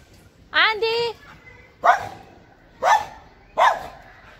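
A dog barks four times, the first a drawn-out yelping bark, then three sharp evenly spaced barks, loud and close, during a family visit in Nepal.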